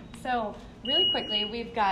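A person talks while a high, steady electronic beep from panini makers in a campus dining kitchen sounds briefly beneath the voice.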